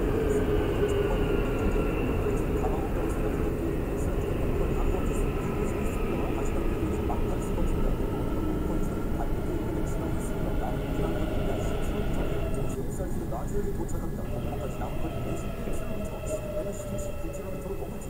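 Simulated Korean train number 1919, a Cheonan express with a 341x39 consist, running from Seoul Station toward Suwon in the OpenBVE simulator: a steady, loud rumble of wheels and motor runs throughout, with no one speaking.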